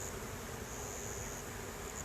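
Honey bees buzzing at an opened hive after a new unmated queen is added, a constant dense drone with no break, alone with no talk.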